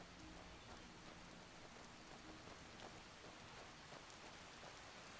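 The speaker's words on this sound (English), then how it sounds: "It's raining and it's cold." Steady rain falling in the video game Skyrim, a continuous dense hiss of drops spread evenly through the whole stretch, with no voices over it.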